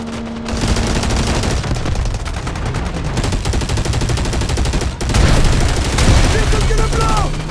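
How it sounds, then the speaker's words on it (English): A continuous, loud artillery barrage of rapid booms and gunfire fills a warfare battle in the Delta Force Mobile video game, with no let-up throughout. "Artillery barrage incoming."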